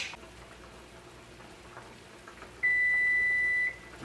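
A single sustained electronic beep from a kitchen timer during a shrimp boil sounds for about a second over quiet background noise.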